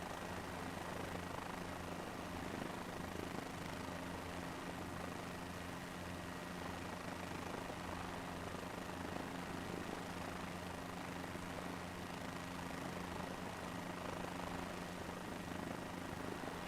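A Chinook helicopter in Microsoft Flight Simulator 2024 gives off a steady low rotor and engine drone under a wide hiss. The sound stays constant and fairly faint throughout, with no talk.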